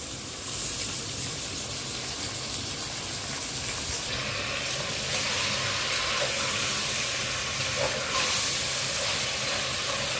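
Potatoes, raw black-eyed peas and tomatoes with mutton frying in a pan give a steady, loud hiss and sizzle that runs continuously throughout, with no voices over it.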